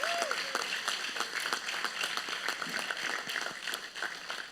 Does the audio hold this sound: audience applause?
yes